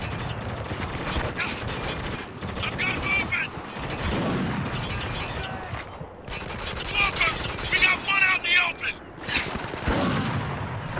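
Gunfire in Spec Ops: The Line cracks and booms in irregular bursts, including heavy single shots, amid loud explosive rumbles. Voices talk under and between the shots.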